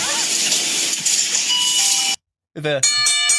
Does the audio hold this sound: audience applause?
no